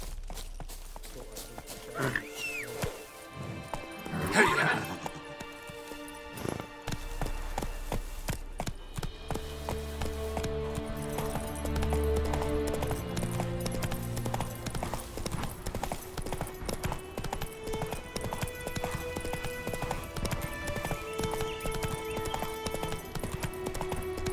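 Roach, Geralt's horse in The Witcher 3, gallops with steady rhythmic hoofbeats and gives a whinny early on, set against layered game music with brief voices near the start.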